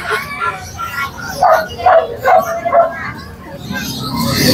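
Dogs at a pet market barking and yipping in a quick run of sharp, close calls mixed with people talking and general crowd noise.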